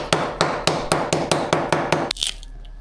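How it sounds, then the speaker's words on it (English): A hammer beats stone-hard dried fish laid on the ground outdoors: eight sharp, evenly spaced loud thuds in a steady rhythm, followed by a brief scraping clatter. "So we use a hammer or an axe or something, lay it to the ground, and then we beat it."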